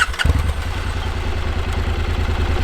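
A Honda NC750X motorcycle on its stock exhaust starts up and settles into a steady, throbbing idle, with a low, even pulsing rumble heard close and loud throughout.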